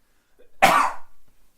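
A single harsh cough from a person, close and loud, with a short breathy tail trailing off afterward.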